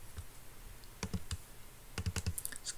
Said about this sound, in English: So I'll double click this one.